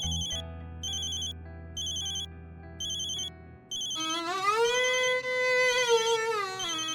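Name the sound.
phone ringtone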